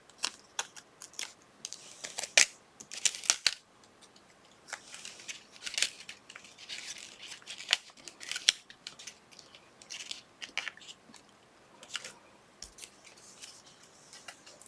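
Scissors snip repeatedly through paper ephemera while trimming away cut-off leaves and stems for a Graphic 45 Letters to Santa folio, giving close, crisp irregular cuts with short pauses between them.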